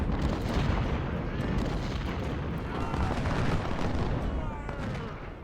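Artillery fire in a Civil War battle in Ultimate General: Civil War, heard as a dense, rumbling barrage of cannon booms and musketry blending into a continuous loud roar.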